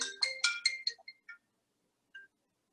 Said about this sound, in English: I'm sorry, that's my wife's phone.